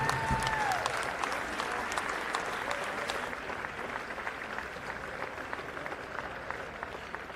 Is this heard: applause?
yes